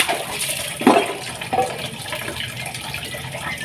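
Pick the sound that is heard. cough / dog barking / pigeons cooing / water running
water running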